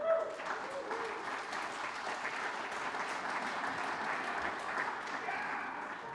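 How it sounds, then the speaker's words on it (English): Applause from a hometown crowd at a school committee campaign kickoff in Brookline, steady and moderately loud for about six seconds with no talking over it. "I was hoping that was an applause line."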